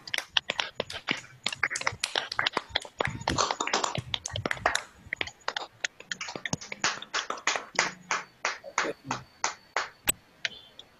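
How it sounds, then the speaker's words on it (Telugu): Participants on an online lyric writing workshop video call clapping into their microphones, a ragged burst of overlapping claps thinning into a slower, steady clap rhythm. "అందరూ చప్పట్లు కొట్టండి, మీ మైక్ ఆన్ చేసుకొని చప్పట్లు కొట్టండి"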